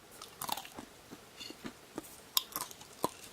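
Crisp crunching of someone biting into microwave-toasted almonds, a few sharp bites and chews close up, fairly quiet with no talking.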